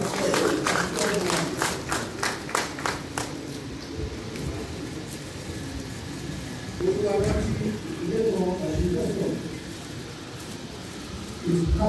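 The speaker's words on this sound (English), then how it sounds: "Please give me a round of applause." An audience at a ceremony applauds with a burst of brisk claps that thins out after a few seconds, then gives way to a speaker's amplified voice over a room murmur.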